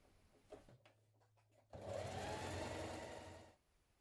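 A sewing machine stitches a seam on a vest or blouse, a few faint clicks first, then one close, steady whirring run of about two seconds that stops abruptly.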